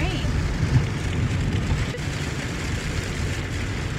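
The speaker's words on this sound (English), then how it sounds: "It was pouring down rain." Heavy rain pours steadily during a storm, a dense continuous wash of noise heard while driving home, staying loud and even throughout with no clear voices.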